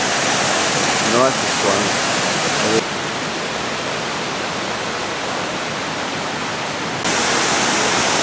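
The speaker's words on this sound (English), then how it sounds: "A real nice, beautiful waterfall" A waterfall in the Balkans, heard from a spot right behind the falls, roars as a steady broadband rush that fills the whole clip, with a brief voice speaking over it near the start.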